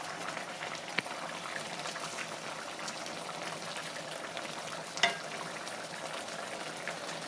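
Rice boiling in a pot on a stovetop burner turned down to low gives a steady, soft bubbling hiss with a couple of faint clicks, and no one speaks.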